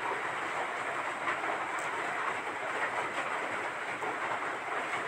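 A sewing machine stitching fabric while a zipper is attached to a garment, making a continuous, even whirring rattle at moderate volume with no talking.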